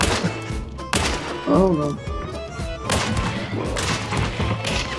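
Gunshots ring out in the video game Hunt Showdown, several sharp blasts and thuds scattered across a few seconds, loud and close, with players talking over the action.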